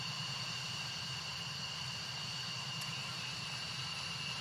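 Steady jet engine roar from nearby aircraft traffic in an F-16 flight simulator, a constant even hum with no breaks, moderately distant and fairly quiet.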